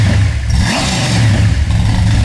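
Blown 496 big block Chevy engine fitted with Thrush mufflers, revving up loudly with a deep, rough exhaust rumble and a rising pitch swell, close and alone.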